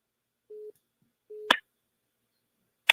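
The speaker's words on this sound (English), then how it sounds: "I think somebody's calling me on the other phone line there" Two short steady electronic beeps from a phone's call-waiting signal on another line, each followed by a sharp click, sounding alone against silence.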